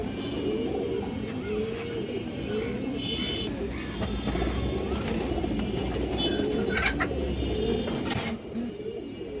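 Pigeons cooing at a pigeon farm among high flyer birds, a low, throaty, repeated burbling that carries on steadily over a busy background hum.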